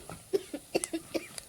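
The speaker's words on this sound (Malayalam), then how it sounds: "പൊടി മൂത്ത് ചുമക്കുന്നു" A few short, quiet coughs in a rough rhythm, close by and with no talk, from someone breathing the fumes of chilli powder (piriyan and ordinary dried chillies) roasting in a pan while cooking Kottayam-style sardine curry.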